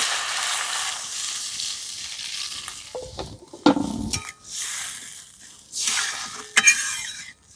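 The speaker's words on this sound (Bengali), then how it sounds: "এবার পরিমাণ মতন জল দিয়ে দেব।" Water poured into well-fried spice paste in a pan for a Bengali fish curry, bringing sharp bursts of sizzling, with stirring and light clinks of utensils between quieter moments.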